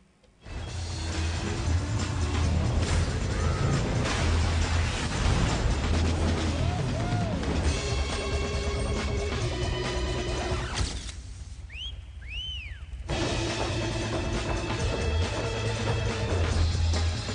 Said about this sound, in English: What you're hearing there is the audio from a new game called ModNation